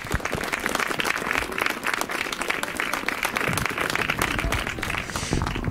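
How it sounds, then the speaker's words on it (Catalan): Sustained crowd applause at an outdoor mural unveiling in Reus marking a Franco-era anniversary, dense steady clapping that stays loud throughout with no voices over it. "si us plau us demano un aplaudiment perquè porten 3 dies aquí"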